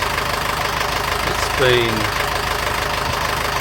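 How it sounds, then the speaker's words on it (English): A Yanmar sailboat engine idles steadily with a low, knocking diesel rumble while someone speaks over it. "today we got the engine running again"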